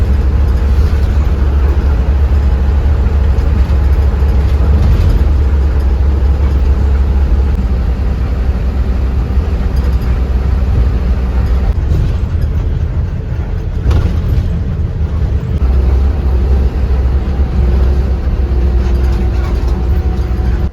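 Inside a bus on a Himalayan highway journey from Delhi toward Uttarkashi, a loud, continuous low rumble of engine and road noise fills the cabin, steady throughout with slight fluctuations and no talking.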